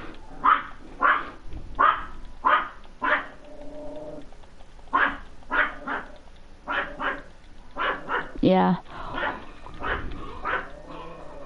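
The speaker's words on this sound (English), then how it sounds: "That's my dog. In the background." A dog barks repeatedly in steady bursts, close and fairly loud, with a single brief spoken word partway through.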